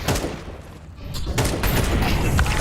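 Loud, dense video game gunfire bursts fill the clip, with booming shots and a brief lull in the middle before firing resumes, in Counter-Strike on the Dust2 map.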